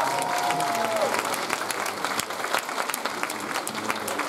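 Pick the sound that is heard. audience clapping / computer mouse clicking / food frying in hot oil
audience clapping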